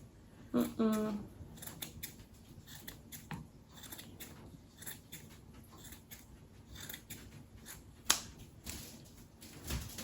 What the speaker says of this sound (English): And you see, I'm just trimming it.